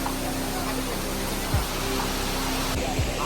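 Water from Baba waterfall at Amboli roars as a steady, dense broadband rush, close and continuous, with a few faint thumps underneath.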